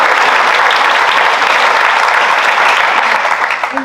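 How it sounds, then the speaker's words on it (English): A large audience at a university white coat ceremony claps steadily and densely in a loud, sustained round that continues without a break. "Big round of applause for that."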